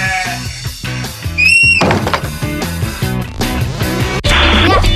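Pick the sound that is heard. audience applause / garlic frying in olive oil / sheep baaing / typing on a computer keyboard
sheep baaing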